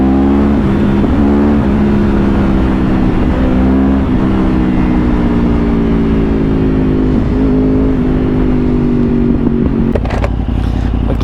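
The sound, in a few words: Yamaha R1 motorcycle accelerating on the road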